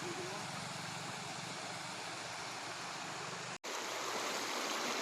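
A river near a temple in Mahanpur rushes with steady, loud broadband water noise that continues without pause, broken only by a brief cut near the end.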